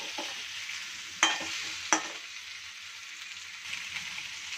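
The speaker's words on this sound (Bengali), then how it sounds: "তো কিছুক্ষণ নাড়িয়ে চাড়িয়ে নিয়েছি মিনিট 1 মতন, আর একটু লেগেও যাচ্ছে।" Chicken and potatoes fry in a pan that is starting to catch, with a steady sizzle and stirring, punctuated by two sharp spoon clanks against the metal early on, and no one speaking.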